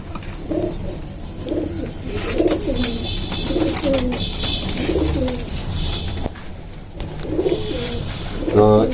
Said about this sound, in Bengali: তো এই যে একটা কবুতর